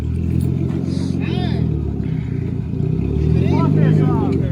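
A car engine revs hard on a dyno during a dyno day, a loud continuous roar rising and falling through several throttle sweeps, with voices talking and cheering over it.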